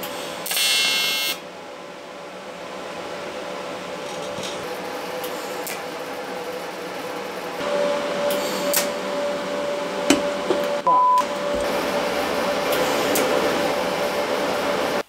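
A car part for a Toyota AE86 is tack welded, giving a steady crackling, buzzing hiss that runs continuously at close range with a few sharper pops and knocks.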